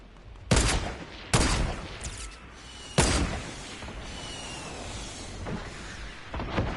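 Heavy gunfire erupts in the Fortnite video game, with several sharp bursts and booms spaced a second or two apart over steady background rumble, fairly loud and without talk.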